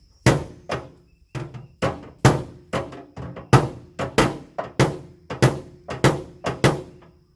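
A hammer and dolly knock dents out of a car body panel in a DIY auto body job, sending out a close, loud series of metallic knocks in a fairly regular rhythm, about two per second, with no talking.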